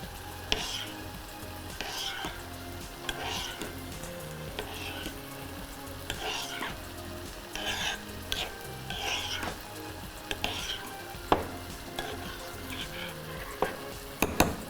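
Yogurt and cream are stirred together in a bowl, giving a soft, steady wet swishing with light scrapes and occasional clinks of a utensil against the dish, close and fairly quiet.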